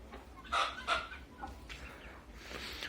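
Black Ayam Cemani hens and a rooster cluck and call in a few short bursts, fairly faint and close, with gaps of quiet farmyard ambience between them.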